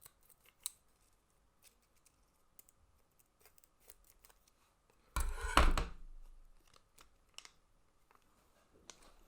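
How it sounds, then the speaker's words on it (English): Scissors give one loud, crisp cutting snip near the middle, surrounded by a few faint clicks and light handling taps in an otherwise quiet room. "I'll probably have to get another pair of scissors here."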